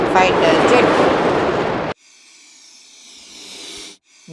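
A fighter jet roars loud and broadband for about two seconds, then cuts abruptly to a much quieter, thinner whine that fades near the end.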